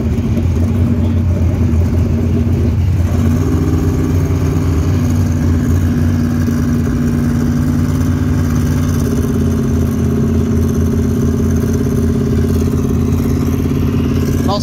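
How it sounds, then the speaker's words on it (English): A turbocharged Pro Mod drag racing car at an outlaw Pro Mod event drones steadily and loudly throughout, its harsh engine tone holding level with a slight shift early on. "Most quiet Pro Mod I've ever heard."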